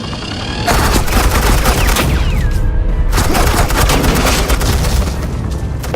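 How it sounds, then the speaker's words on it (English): Loud, continuous suppressing gunfire: dense automatic bursts and booms crowd together without a break for several seconds, close and overwhelming, with no voices. "I said suppressing fire!"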